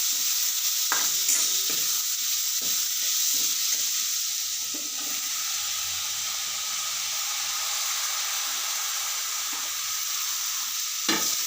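Onion hits hot oil in a pan with a steady, bright sizzle, broken by a few spoon taps and stirring scrapes near the start and a clank at the end, close and with no voices.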